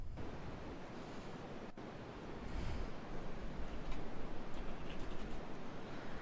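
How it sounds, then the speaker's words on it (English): Steady broadband white noise, a flat continuous hiss that stays even and alone throughout, with a faint low rumble and slight swell partway in. "this is white noise."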